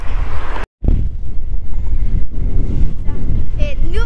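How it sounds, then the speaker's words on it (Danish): Strong wind at a beach buffets the microphone with loud, rumbling gusts and a brief dropout near the start, the roar continuing unevenly to the end. "Nu er vi nede på stranden, og det blæser rigtig meget"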